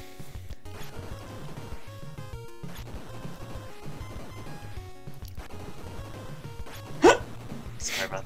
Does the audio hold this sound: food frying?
no